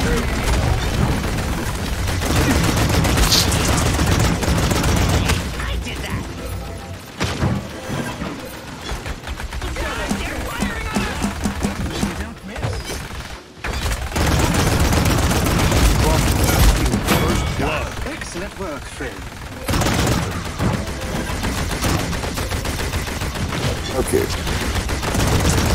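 Gunfire in the game Paladins, dense bursts of rapid shots and booms filling the whole stretch, loud and near, with brief gaps and a voice talking over the action.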